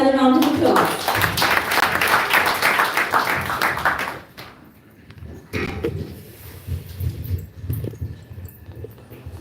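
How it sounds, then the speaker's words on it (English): An audience at a Namahatta gathering gives a round of applause, a dense wash of many hands clapping for about four seconds before fading out, after which a voice talks over quiet room noise. "Let's give him another round of applause."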